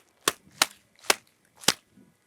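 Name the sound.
AK-47 gunshot sound effect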